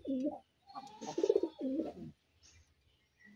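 Desi Raj Golla pigeons coo softly while resting in their loft. A few close, low coos come in quick succession, followed by near silence.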